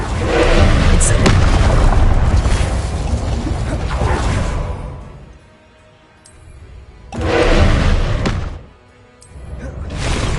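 Hogwarts Legacy spellcasting bursts out in heavy, roaring whooshes and booms, one long blaze of several seconds followed after a brief lull by a second loud surge, with a voice calling out over it.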